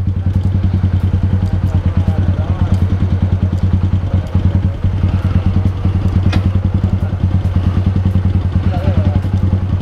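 A motorcycle engine runs close by with a continuous rapid thumping pulse and scattered clatter, loud and steady throughout, with faint voices beneath.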